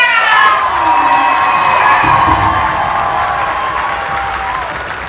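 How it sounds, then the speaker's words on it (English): A crowd of schoolchildren cheers and applauds, loud high-pitched shouting and whooping over a wash of clapping, sustained throughout and slowly easing, close and filling the room. "I want you to clap louder than you've ever clapped before"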